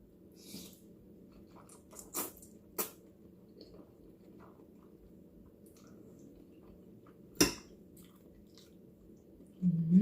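Crunchy mushrooms in spicy Korean instant noodles are chewed up close, a few sharp crisp crunches at scattered moments against an otherwise quiet, faintly humming background.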